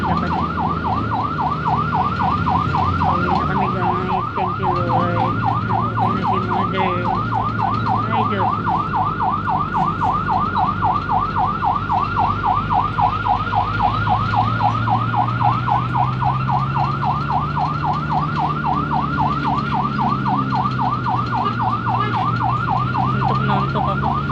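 A loud ambulance siren wails continuously in a rapid warbling pattern, close by, with a vehicle engine rumbling underneath.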